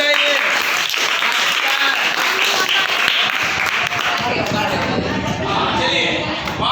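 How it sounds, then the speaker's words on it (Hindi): A Class 9 classroom of students claps loudly and continuously for several seconds, with voices mixed in over the applause. "जोरदार तालियां बजाइए।"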